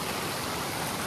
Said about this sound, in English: And then step over the bumbling brook